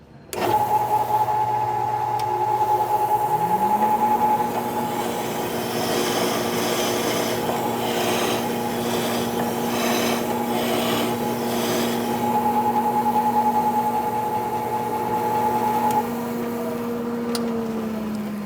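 A Magna Matic machine at Equip Expo cleans caked grass and rust off the teeth of a mower blade, its motor humming and rising in pitch while a harsh scrubbing grind builds and fades over the steady drone.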